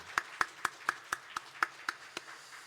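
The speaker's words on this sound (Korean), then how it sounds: "우리 축복의 박수도 한번 하겠습니다" A church congregation gives a round of blessing applause: about ten clear, evenly spaced claps in unison, crisp and moderately quiet, with no talking during the clip.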